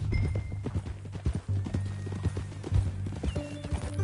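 Steady clip-clop of horse hooves at a walking pace in Red Dead Redemption 2, close and fairly loud, with a low musical drone underneath and a brief whinny-like tone near the end.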